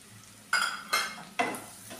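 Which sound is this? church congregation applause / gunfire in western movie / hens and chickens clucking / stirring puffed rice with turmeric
stirring puffed rice with turmeric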